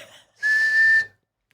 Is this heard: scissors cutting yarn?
no